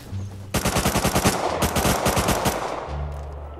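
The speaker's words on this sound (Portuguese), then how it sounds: "Você tá tomando tiro aí de onde?" Rapid automatic gunfire from the video game Rust, loud bursts of fast repeated shots filling most of the clip, with a brief pause and quieter engine-like hum at the start and end.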